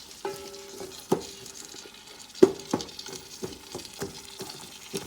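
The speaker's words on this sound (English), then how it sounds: "So in goes my red onions." Red onions tipped into basmati chicken fried rice in a pan, giving a soft sizzle under intermittent scraping and stirring knocks of a utensil against the pan, fairly quiet and close.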